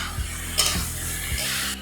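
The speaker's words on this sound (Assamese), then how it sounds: "আৰু ধুনীয়াকৈ লৰাই দিছোঁ" A spoon scrapes and stirs chicken pieces and potatoes in a hot cooking pot, three distinct rhythmic scrapes over a steady sizzle of frying, close up with no voices.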